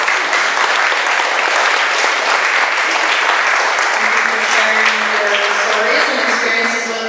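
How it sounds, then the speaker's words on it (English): Loud, dense applause from an audience for forum panelists, sustained clapping that fills the room and tapers slightly near the end. "Let's give it a round of applause for our panelists."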